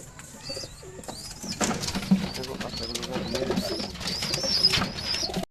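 Indian Madras pigeons cooing close by in a loft, soft repeated throaty coos over chirps from other birds, with someone speaking quietly underneath.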